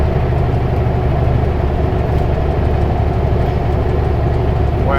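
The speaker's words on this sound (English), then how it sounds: "all you hear is the truck" A truck engine idles steadily inside the cab with the radios off, a constant low rumble and drone close by with no talking, unchanging for the whole stretch.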